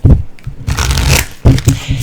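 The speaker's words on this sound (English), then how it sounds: "I'm going to shuffle these." Tarot cards being shuffled by hand, giving two bursts of quick, close papery riffling and rustling with soft taps, loud and clear with no talking over them.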